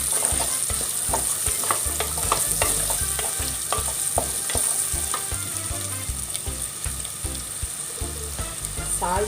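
Sliced onions, green chillies and curry leaves fry in hot oil with a loud, close, continuous crackling sizzle, broken by frequent stirring scrapes and knocks throughout.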